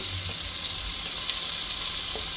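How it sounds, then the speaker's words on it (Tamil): Sliced onions, four of them, frying in oil in a pan for a mutton kurma: a steady, close hiss of sizzling with no speech. "4 வெங்காயம் இது நல்ல எண்ணெயில் வணங்கணும்"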